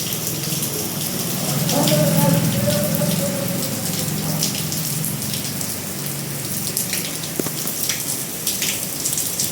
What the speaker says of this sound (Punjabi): ਦੇਖੋ ਕਿੰਨਾ ਮੀਂਹ ਆ ਰਿਹਾ ਹੈ